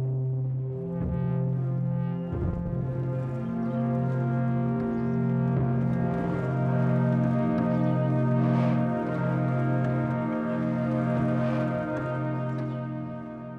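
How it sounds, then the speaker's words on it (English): Sustained chords from a pump organ heard from inside the instrument, thick reedy drones shifting between harmonies, with soft mechanical thumps and pedal noise beneath, full and close. "So let's listen to the inside of a pump organ."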